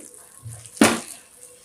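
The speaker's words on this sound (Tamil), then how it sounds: "நல்லா கொதிக்க கொதிக்க சூடான தண்ணியை நான் இதில் ஊற்றி" Boiling hot water poured into a bowl of dry soya chunks in a home kitchen, a single brief, close splashing pour that fades quickly.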